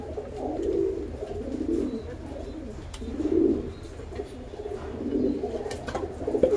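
Pet pigeons coo in repeated low, throaty bursts about a second apart while they are being fed mixed grain, the calls close and steady over a faint background.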